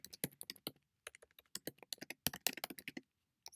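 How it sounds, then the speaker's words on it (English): Typing on a computer keyboard: quick, crisp key taps come in short irregular bursts with brief pauses, close and clear against silence. "So I'll just type this in there."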